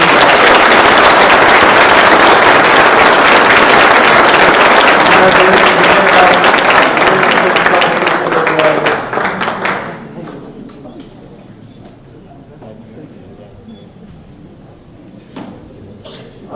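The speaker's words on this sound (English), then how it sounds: "So we'd like to give a big round of applause to Allison." A large crowd at a junior golf tour banquet applauds loudly and steadily for several seconds, then the clapping fades away to quiet room noise.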